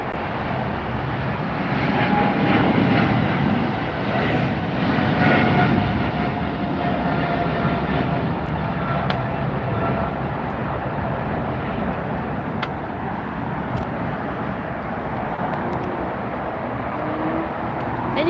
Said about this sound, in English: Here goes the British Airways.